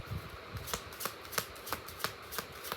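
Tarot cards are shuffled by hand at close range, a run of crisp riffling bursts arriving in a steady rhythm about every third of a second, with no talking.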